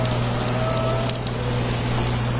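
Steady rain pours down outdoors during a Buddhist fish-release merit ceremony in Thailand, a dense continuous hiss and patter with low hum beneath, no voices.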